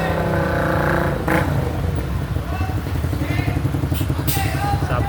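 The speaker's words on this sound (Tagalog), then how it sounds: "sumingit pa ng motor" A motorcycle squeezes through congested traffic near a bridge, its engine revving and whirring close by amid other vehicle noise and clatter, with a short sharp knock partway through.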